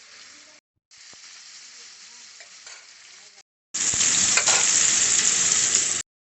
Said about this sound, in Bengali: কড়াতে মাছ ভাজ দিয়ে বসিয়ে দিয়েছি মাছটা ভাজা হচ্ছে